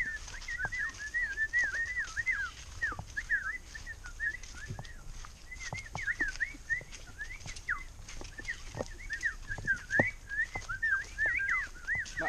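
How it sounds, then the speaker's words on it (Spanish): Many birds chirp and whistle in repeated bright calls, close to mid-distance and fairly steady, with occasional sharp clicks and coo-like notes. Rural setting in El Salvador during a mamón fruit harvest; no talking. "Un montón de pájaros vienen."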